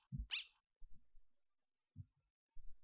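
The Greater Dog from the video game Undertale gives a few short, quiet barks and yips, spaced apart with soft low thumps in between and stretches of silence.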